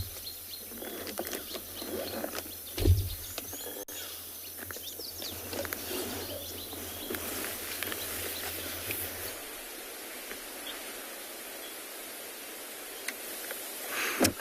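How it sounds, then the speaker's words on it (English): Birds call and chirp at sunset on safari in the Tswalu reserve: scattered short tweets and trills at moderate distance over a soft outdoor background, with a few brief mechanical ticking sounds and no speech. "It sounds like there's been a fantastic afternoon of birds all over."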